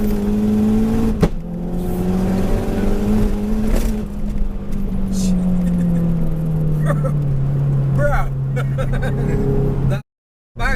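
A tuned 535 bhp Mazda 3 MPS engine revs hard under steady acceleration, with a sharp flat-shift bang partway through as the gears change; voices talk over the loud, continuous engine drone.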